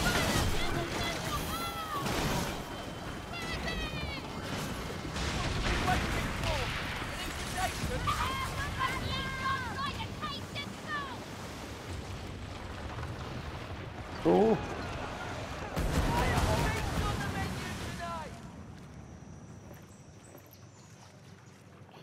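Cannon and gunfire in the naval pirate video game Skull and Bones, with booming blasts and crackling shots over sea and ship sounds, mixed under game music and a person talking.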